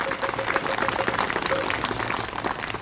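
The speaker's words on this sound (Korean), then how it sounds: "큰 박수 한번 보내주시면 고맙겠습니다" An audience at a Korean Buddhist cultural festival in Cheongju applauds, producing a dense patter of clapping from a crowd that carries steadily throughout, with faint voices underneath.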